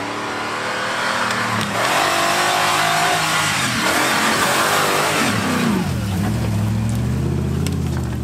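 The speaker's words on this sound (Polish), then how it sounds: "Tutaj mamy silnik BMW 4 litry bez wanosu" A 4-litre BMW engine of about 300 horsepower, fitted in an off-road car, runs loud and close throughout. Its pitch shifts as the revs rise and fall, and it plays alone with no talk.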